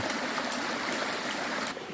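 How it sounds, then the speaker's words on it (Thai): Water flows steadily in a stream along a shaded forest trail in Korea, a continuous close rushing and trickling that runs throughout without pause. "น้ำไหลครับผม ไม่ใช่น้ำตกนะครับ น้ำไหลไหลไหลในลำธาร"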